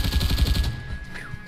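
A single gunshot in a first-person shooter game on Roblox, a short sharp burst that rings out at the start and then quickly fades.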